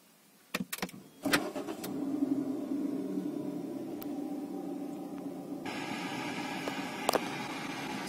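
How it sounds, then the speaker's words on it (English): A Proton Iriz 1.3 Executive car engine cranks and starts, with a few sharp clicks and clunks before the engine settles into a steady idle hum. "So let's start this vehicle up."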